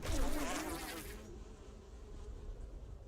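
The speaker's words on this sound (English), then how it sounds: "Bees!" A swarm of bees buzzes in the video game 7 Days to Die, a dense droning hum that starts loud and harsh, then drops to a steadier, quieter buzz.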